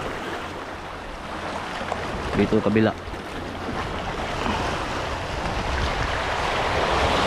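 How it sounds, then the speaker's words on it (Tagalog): Strong wind buffets the microphone at sea during a light rock fishing trip, with surf and water noise roaring steadily throughout; a brief spoken phrase rises midway over the continuous blustery rush. "Medyo malakas yung hangin."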